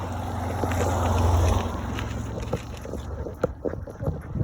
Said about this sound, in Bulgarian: Вятър, колко яко духа вятър.